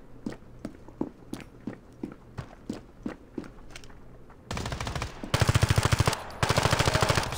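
Gunfire in the mobile shooter Standoff 2 during a gun game match: a series of evenly spaced single shots, then sustained loud automatic bursts with strong recoil, close and alone.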